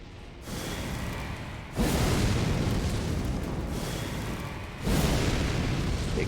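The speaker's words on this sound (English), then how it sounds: "Big death explosion." A big death-magic explosion in Elden Ring, loud and booming, with deep rumbling bursts that swell at two points and sustain a roaring wash between them.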